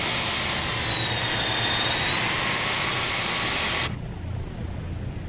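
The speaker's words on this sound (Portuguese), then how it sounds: "O avião tá lá atrás, tá fazendo barulho aqui ainda" A Douglas DC-3 engine drones in Microsoft Flight Simulator, a loud, steady broadband roar with a high whine that holds for about four seconds, then cuts off abruptly and leaves a quieter residual hum.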